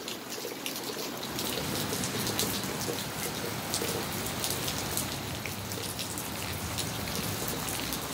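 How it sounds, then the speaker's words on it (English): Heavy rain pours down steadily, a dense hiss of drops pattering on surfaces, constant and close with no voices. "The rain is slacked up"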